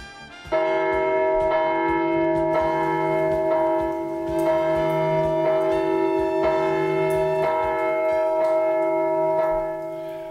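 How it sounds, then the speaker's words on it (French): Village church bells ring out clearly with repeated, evenly spaced strikes whose rich metallic tones overlap and hang in the air, loud and alone for about ten seconds before fading. "vous avez entendu les cloches"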